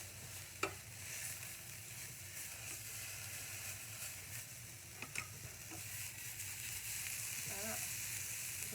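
Food browning in a hot pan with broccoli, giving a steady, close frying sizzle with faint crackles and a few small clicks, with no talking.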